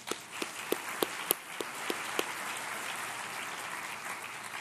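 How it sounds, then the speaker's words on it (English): Sparse, scattered clapping from a conference audience at a multicultural marketing and diversity event, with a few distinct hand claps over a low hall murmur that fades to a steady room hum. "If we could have a round of applause for them."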